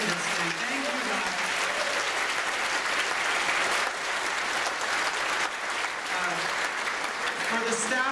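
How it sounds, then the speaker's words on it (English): Banquet audience at a gaming convention applauding steadily for several seconds, a dense, sustained wash of clapping from a large seated crowd with a few faint voices mixed in. "how about a round of applause for Tim and Liz and all the people who started this thing"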